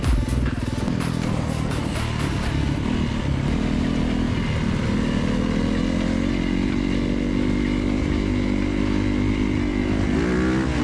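A dirt bike's engine bogs down on a wet, slippery forest trail, its steady labored drone sagging in pitch while the motor strains under load, loud and close throughout.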